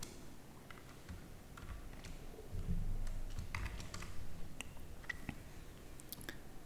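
Scattered light taps on a computer keyboard, faint and irregular, set against a steady background hum with no talking.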